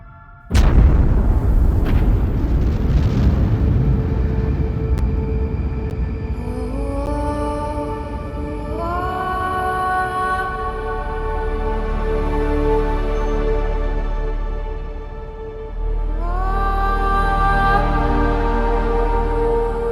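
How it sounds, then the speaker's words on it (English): A supernova explosion sound effect for a space documentary: a sudden loud boom followed by a long, deep rumble, with rising tonal sweeps that swell and fade across about twenty seconds. "the star collapses and then explodes with the brightness of 1 billion suns"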